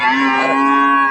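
A single cow lets out a loud, close moo at a busy livestock market, one sustained low bellow lasting about a second.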